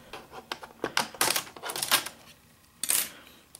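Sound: prying up plastic strip on Toshiba Satellite 105CS laptop

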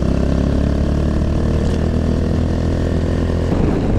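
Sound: Kawasaki Z125 PRO motorcycle engine while riding

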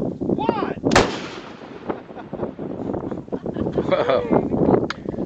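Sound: detonating cord (det cord) explosion

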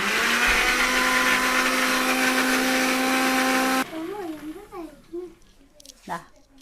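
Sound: mixer grinder grinding chammanthi (chutney)

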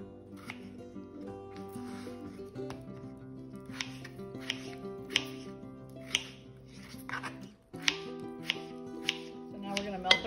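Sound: knife slicing potatoes into bite-sized pieces

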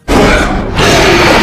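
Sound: Tyrannosaurus Rex roar in video game Jurassic World Evolution 2

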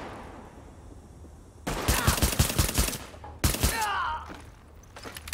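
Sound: rapid gunfire in video game The Division

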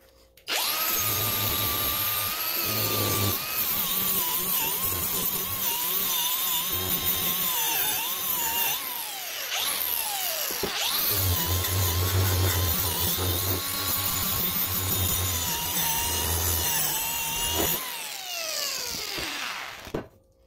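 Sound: cordless battery angle grinder running and braking to a stop

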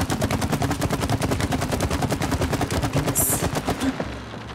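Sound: shooting a gun in video game It Takes Two

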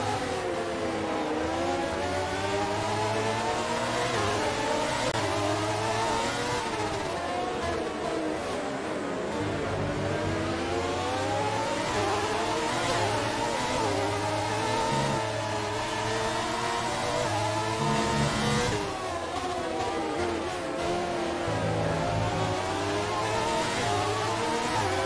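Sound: F1 race car engines at race restart, F1 2019 video game

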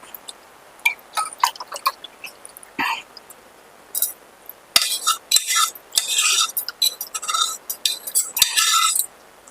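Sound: stirring jaggery into milk with a spoon

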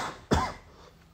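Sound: coughing after vaping

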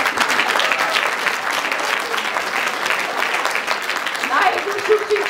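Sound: audience applause for children

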